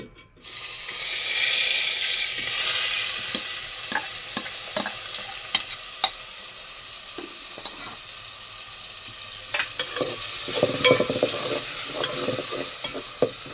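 Onion paste fries in oil in a pan, a loud steady sizzle near at hand, with frequent stirring knocks and scrapes and a brief burst of hissing toward the end.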